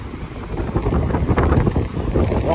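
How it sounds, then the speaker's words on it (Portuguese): Strong wind buffeting the microphone on Praia da Barra do Jucu, a heavy, gusty low roar that rises and falls over a few seconds, loud and close. "Nossa, tá ventando demais."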